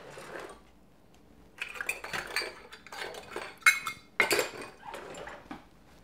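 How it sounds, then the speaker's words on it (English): Dishes and cutlery clink and clatter in a home kitchen as a measuring cup is fetched, a string of sharp metallic knocks and rattles in bursts, fairly close, with no talk over them. "Let me get you a cup measure for..."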